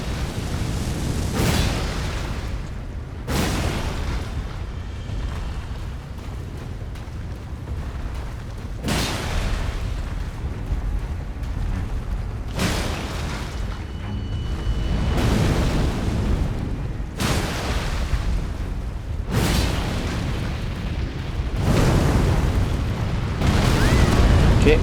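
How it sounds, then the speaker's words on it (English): Repeated explosions in Elden Ring Shadow of the Erdtree boom loudly at irregular intervals, about eight heavy bursts over a rumbling battle bed, with a person talking in between. "Okay, that's just an explosion that does damage."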